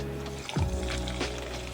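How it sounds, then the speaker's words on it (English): A brief splash and trickle of water being poured into a cup of coffee, close by, over a low background hum. "Add a little bit of water."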